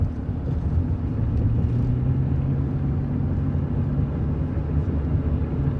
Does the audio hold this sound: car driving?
yes